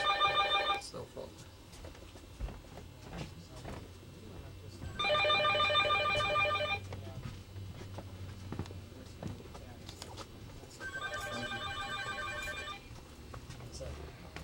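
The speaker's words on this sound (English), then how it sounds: "Cell phone." A cell phone rings in three separate bursts of bright repeating trills, spaced several seconds apart, over a low rumbling background with faint activity between the rings.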